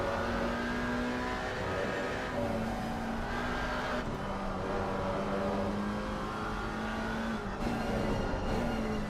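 A McLaren race car laps the Kyalami circuit in a sim racing game, its engine droning steadily at high revs with slight pitch shifts through the gears, loud and continuous with no talk.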